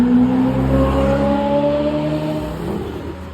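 A Ferrari 488 Pista Spider drives past on a Zurich street, its engine a loud, close, strained drone that drops in pitch as it passes and fades away.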